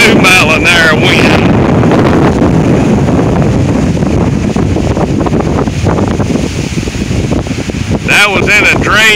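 Strong non-thunderstorm wind gusts of 40 to 60 mph in Oklahoma roar loudly and continuously across a microphone, producing heavy buffeting wind noise for the whole stretch, with brief squealing tones near the start and end.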